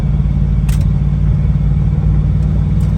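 A 1978 Chevrolet K5 Blazer 2WD drives along with a loud, steady low engine rumble heard from inside the cab, the gear change from second to third blending into the continuous drone.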